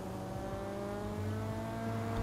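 A car in the racing video game Forza Horizon 3 drives fast at about 120 miles an hour, its engine holding a steady, loud, continuous drone with a slight rise in pitch.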